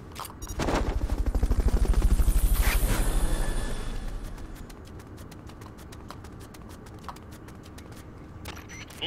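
In Metal Gear Solid: Peace Walker, a Fulton recovery helicopter roars in as a loud, swelling whoosh that fades after a few seconds. Rapid rhythmic rotor chopping continues afterward at a lower level.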